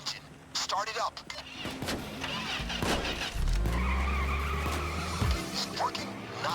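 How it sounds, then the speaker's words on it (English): In the video game Payday 2, a hotwired vehicle engine cranks and catches, then settles into a loud, steady rumbling idle, with game speech and other action sounds layered over it. "You should remember how to hotwire an engine."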